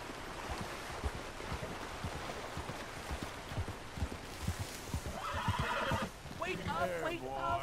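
A horse in Red Dead Redemption 2 whinnies loudly near the end, its high wavering call rising over steady hoofbeats and a busy outdoor background.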